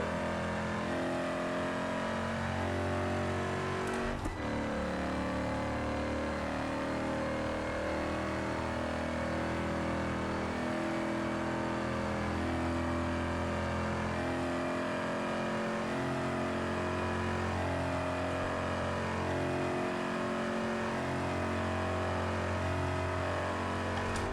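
A limousine engine in the BeamNG driving game drones and climbs as the car accelerates, with a steady, loud, close whirring tone and shifting harmonics, broken by one brief transient early on.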